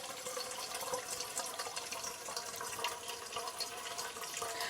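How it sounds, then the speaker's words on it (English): Slow, clear water flowing at a spring, a continuous soft trickle and burble, faint and steady, with no voices. "One thing with the water this slow is there's very little turbulence, so it's crystal clear."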